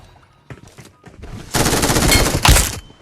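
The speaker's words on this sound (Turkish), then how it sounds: "Birini sıkıyor çatıda." Automatic gunfire in the mobile shooter PUBG Mobile: a few scattered shots lead into a loud, dense burst of rapid fire, then a final sharp volley close by.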